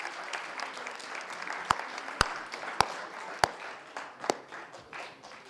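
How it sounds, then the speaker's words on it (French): An audience applauds a student at a high school eloquence and debate prize ceremony, a continuous wash of clapping with several sharp, louder individual claps standing out. "vous pouvez l'applaudir"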